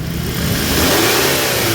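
A Hyundai Sonata engine, under repair for bearing noise and with a faulty manifold sensor, revs loudly and steadily up close, a continuous rising roar with no talk over it.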